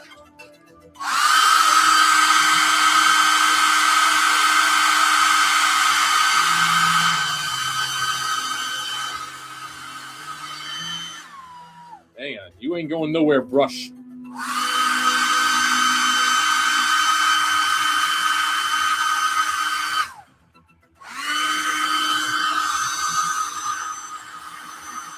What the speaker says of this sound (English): We can hit it with the hairdryer.